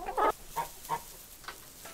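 Chickens in a coop give several short clucks and squawks, close by, with pauses between them.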